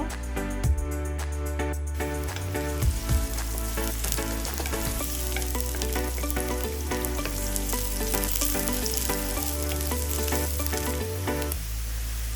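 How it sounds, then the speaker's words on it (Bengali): Chopped onions fry in hot oil in a pan, giving a loud, continuous sizzle close up, with stirring and scraping sounds throughout and no talking. "পেঁয়াজটা হালকা ভেজে নিয়ে"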